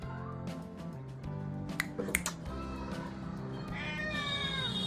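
A house cat meows several times up close in a home shared with many cats, short bright calls with one longer drawn-out meow toward the end, over a low background hum.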